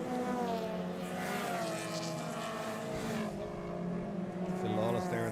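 Race cars accelerate at a green flag restart during a classic car circuit race. Several engines roar together in a continuous, rising and shifting drone, with commentary talk running over the top.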